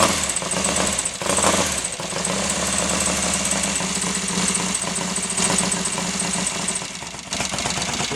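A Royal Enfield 750 Interceptor twin, just rebuilt at the top end, runs steadily at idle right after its first start, a loud, continuous mechanical chatter with a slight ticking knock and no talk over it.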